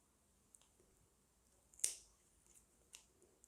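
A single crisp snip as a purple passion plant stem is cut for cuttings, near and brief, with a few faint clicks and handling noises around it in an otherwise quiet space.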